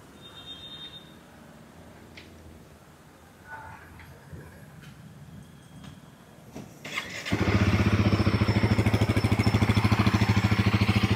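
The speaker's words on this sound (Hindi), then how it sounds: "इग्निशन स्टार्ट करने के बाद में अपन करते हैं इसका इंजन को फायर अप" A few faint clicks and quiet rustling, then a Royal Enfield Guerrilla 450 motorcycle engine cranks and fires up into a loud, steady, rapid exhaust idle.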